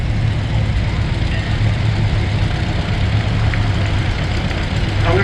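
A Ford 2000 offset tractor engine runs at a tractor and vehicle parade, a steady, loud low rumble with no pauses and a few faint clicks near the end.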